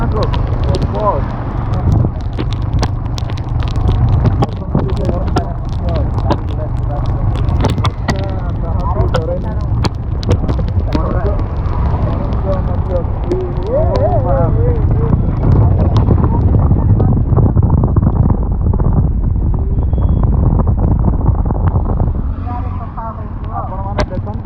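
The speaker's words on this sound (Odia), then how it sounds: "ବର୍ଷା ବେଶୀ ହେଇଗଲା, ପାଣି ଆମ ଉପରେ ପଡ଼ୁଛି" Heavy rain pours at a petrol pump forecourt, a dense, steady roar close by with wind buffeting the microphone throughout, while people talk over it.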